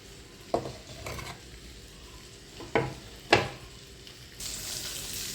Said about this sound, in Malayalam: ഇനി നമുക്ക് ഈ ചട്ടിയിലേക്ക് അരപ്പ് ഒഴിക്കാം.